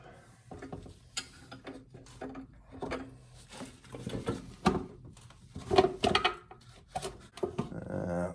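HighLifter ball joint press working on an ATV/UTV ball joint, giving a series of irregular metallic clicks, creaks and ratcheting knocks as the screw is tightened, close and fairly quiet with no talking.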